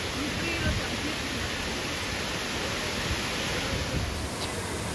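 A waterfall at a camping spot pours in a steady, dense roar that stays loud and unbroken throughout, with no voices standing out above the rush of water.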